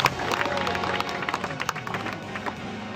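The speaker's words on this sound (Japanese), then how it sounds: "もう一度大きな拍手をよろしくお願いいたします。" A crowd at a RIZIN mixed martial arts press conference claps steadily and densely throughout, at moderate loudness, with a faint murmur of crowd voices underneath.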